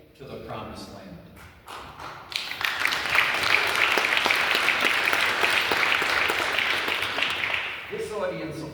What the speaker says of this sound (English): This audience applauds.